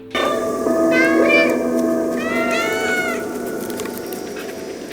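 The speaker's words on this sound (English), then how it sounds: "I also forgot to mention you can meow on command." An orange cat character in a video game meows on command, with two or three distinct, clear meows rising and falling over a steady background of game ambience and music.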